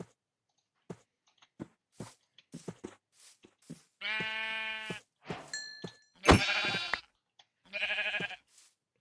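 Sheep in Minecraft give several short synthetic bleats spaced between soft clicks and chewing-like taps, the bleats close and fairly loud, with no talking.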